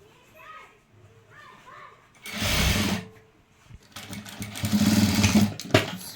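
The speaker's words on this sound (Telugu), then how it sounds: "సో జిబ్బు లోపల నుంచి అయితే కుడుతున్నానండి" Sewing machine stitching a zip onto a dress, a steady mechanical whirr in two loud runs separated by pauses, with a person talking and children's voices in the background.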